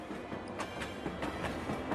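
A train running between stations rolls with a steady rumble and rhythmic clicks of wheels over rail joints, heard from inside at moderate level with no voices.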